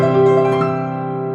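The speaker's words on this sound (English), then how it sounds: "And now they've added the Bösendorfer Imperial grand sound samples." Yamaha Clavinova CLP 685 playing its Bösendorfer Imperial grand piano sample, where a brief struck chord rings out loud and then slowly decays.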